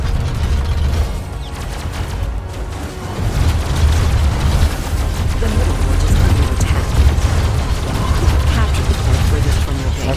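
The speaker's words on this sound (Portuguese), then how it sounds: "Explodiu." An explosion in the robot-building combat game Robocraft booms within a loud, continuous din of mechanical clatter and rumbling, with bursts rising over the dense battle noise.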